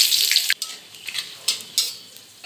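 A bay leaf, whole garam masala and cumin seeds hit hot oil in a pan. A bright, hissing sizzle crackles with several sharp spitting pops, close and fairly loud, with no voice over it.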